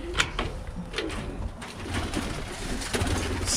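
Birmingham Roller pigeons coo softly and repeatedly inside a loft on a warm December day, with low throaty calls overlapping at close range and light rustling and shuffling underneath.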